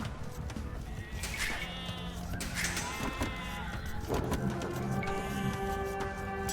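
Sheep bleat repeatedly in Age of Empires II, several short wavering bleats in quick succession amid game interface clicks and a soft ambient background, with no talking.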